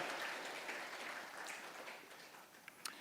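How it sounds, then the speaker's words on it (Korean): Church congregation clapping in praise during a Korean Sunday service, a soft, dense, steady patter of many hands that thins slightly toward the end, heard at a distance in a large room. "우리 한번 하나님 앞에 영광의 박수 한번 올리겠습니다"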